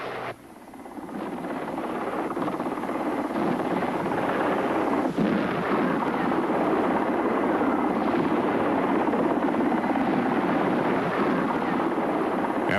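Mi-24 attack helicopter rotors thumping steadily at close range, a loud continuous drone that builds in the first seconds and then holds.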